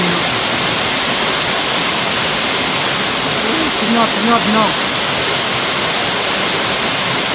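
Waterfall on a forest stream in a Katu tribal area, a loud, steady broadband roar filling the whole clip, with a brief voice partly buried under it.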